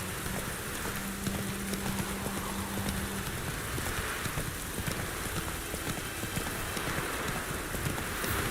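Hooves of the horse Roach clip-clop steadily in The Witcher 3 under a constant wash of rain across the fields, with a brief tonal hum early on.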